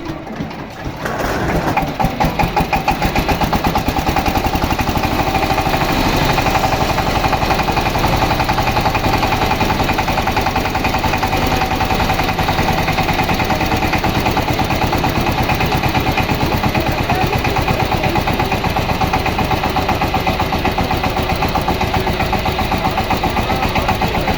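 An old second-hand power tiller engine runs steadily up close, loud and constant, with a fast rhythmic chugging throughout and no voices.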